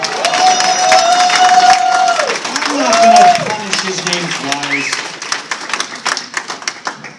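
Crowd at comic con awards claps and cheers for a presenter being called up, loud applause swelling then tapering off, with someone talking over it.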